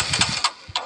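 A motorcycle engine turns over on its electric self-starter and fires, a short chugging burst with uneven pulses that briefly drops off before catching again, close and moderately loud.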